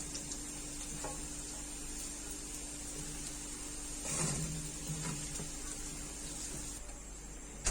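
Taro root pieces (arvi) fry in hot oil with a steady, quiet sizzle and soft crackle, and a few light scrapes and clinks from the pan partway through.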